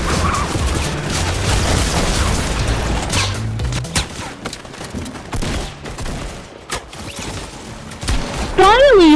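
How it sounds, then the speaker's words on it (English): Fireworks bursting overhead during an in-game event, a dense run of crackling, popping blasts that is loud and continuous before thinning into scattered pops, with a whistling rise near the end and voices talking underneath. "The fireworks are still going in the air."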